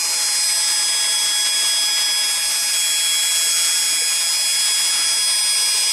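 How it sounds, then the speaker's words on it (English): A small but powerful electric motor runs on 20 volts from a bench supply, drawing half an amp, giving a steady high-pitched whine with an even buzz that holds unbroken throughout, loud and close. "It's actually a very powerful motor."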